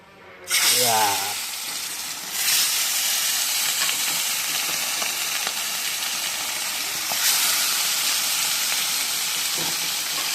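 A rohu fish head hits hot mustard oil and sets off a loud, close, continuous sizzle and crackle, with fresh surges of spitting at a couple of points.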